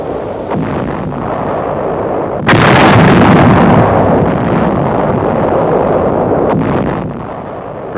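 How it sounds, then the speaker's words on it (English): Counter-battery artillery fire in WWII newsreel footage, a loud sustained roar of booming blasts that swells abruptly partway through and rumbles on with low, dense energy. "Nazi counter-battery fire."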